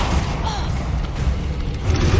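In Hogwarts Legacy, a Confringo spell goes off as a rumbling, crackling blast with scattered thumps and a swelling low roar near the end, loud and busy throughout.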